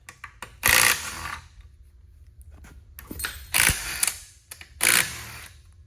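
Short, loud bursts of an impact wrench breaking loose oil pan bolts on a car in a repair shop, three main hammering bursts separated by quieter handling clicks and clatter, with no talk.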